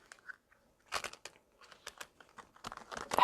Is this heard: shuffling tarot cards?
yes